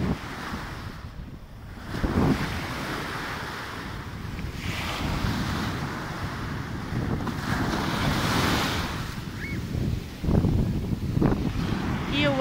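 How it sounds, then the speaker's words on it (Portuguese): Wind blowing across a beach by the sea, gusty rumbling buffets on the microphone over the wash of surf, rising and falling in strength. "hoje está aqui um ventinho agradável"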